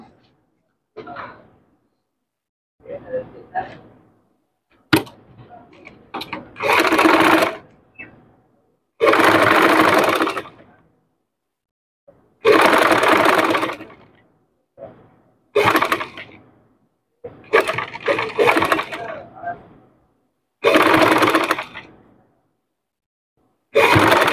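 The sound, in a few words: sewing machine stitching fabric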